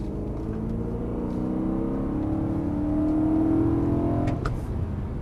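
A BMW M3 E92 V8 on a race circuit drives with a steady, loud engine drone that climbs gradually in pitch as it accelerates, then eases slightly.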